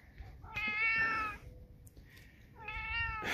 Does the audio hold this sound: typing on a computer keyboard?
no